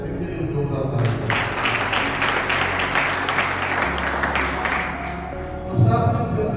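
Loud crowd applause at a marathon event ceremony honouring athletes on stage, many hands clapping in a dense, rhythmic wash for several seconds while amplified speech runs underneath.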